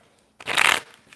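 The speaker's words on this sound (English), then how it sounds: "I'm going to let you look at that for a second while I shuffled these cards" Tarot cards are shuffled once, a short crisp riffle of about half a second, close and alone.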